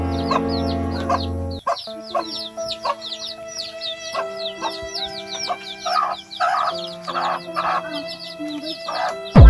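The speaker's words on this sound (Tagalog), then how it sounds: "Hala, ang manok, papamatay kaon." Chickens clucking and squawking steadily, close by, with a rooster crowing at the start and busy barnyard chatter throughout.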